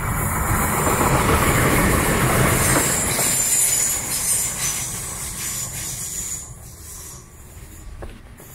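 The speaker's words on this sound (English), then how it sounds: "Oh, there's a train." A train passes nearby at Chessel Bay, Southampton, its wagons rumbling loudly with screeching wheel squeal and clattering, then fading into the distance. No one speaks.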